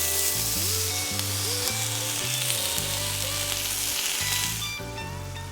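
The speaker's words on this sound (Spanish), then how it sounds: "Extienda las mitades de las salchichas en el sartén y presione ligeramente para que se horneen un poco más rápido." Sausage halves frying in a pan, a loud, continuous close sizzle with crackling and occasional scraping, alone with no talking.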